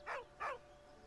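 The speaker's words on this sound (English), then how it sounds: "With a deep, heartbroken whine, the dog bows his head." Two short whining yelps from a dog in Baldur's Gate 3, close and clear, the second following the first after a brief pause, with quiet background between.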